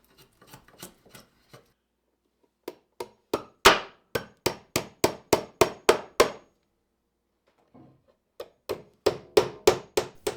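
Hammer blows drive nails into door trim on a log house, first in a few light taps, then in a steady run of about a dozen loud, sharp strikes, and after a pause another quick burst, all close by with no talk.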